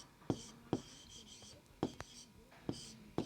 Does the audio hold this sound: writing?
yes